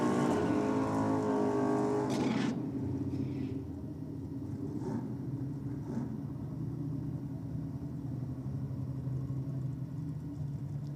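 A drag racing car at a day of drags roars loudly down the strip for the first couple of seconds, then fades to a distant rumble under background noise.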